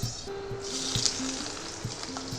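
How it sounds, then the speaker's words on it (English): Onions sizzle and fry in hot mustard oil in a home kitchen, a steady crackling hiss close by, with faint stirring clicks over it. "first fry some onion"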